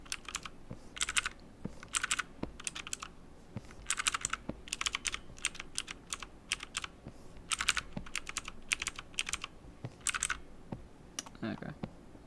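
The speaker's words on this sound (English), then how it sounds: "The keyboard. Well, I got a really loud keyboard." Loud, clacky keyboard typing comes in rapid bursts with short pauses, close to the mic, over faint background noise.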